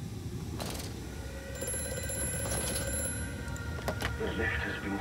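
A telephone rings in the horror video game Amnesia: A Machine for Pigs, repeated bright electronic trills over a dark, rumbling ambient drone, moderately loud and unaccompanied by talk.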